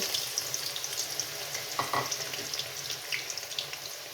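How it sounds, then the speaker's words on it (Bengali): Two large chopped onions fry in hot oil for a chicken curry, giving a steady soft sizzle. A few brief clinks of stirring sound through it, with no talking. "এখন আমি এর মধ্যে পেঁয়াজ ব্রেস্তা করে নিব"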